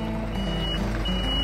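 A lorry on a farm sounds its reversing alarm in steady repeated beeps over the low rumble of its engine, close and fairly loud, with no talking.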